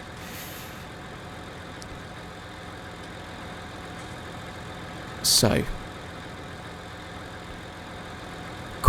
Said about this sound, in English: I came in the T8 because it's more fun